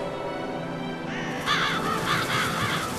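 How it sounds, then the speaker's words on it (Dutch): Crows caw repeatedly in a cutscene of the Harry Potter and the Goblet of Fire video game, several harsh calls from about halfway in, rising over a steady background music bed. "Ja, dat zijn vogels."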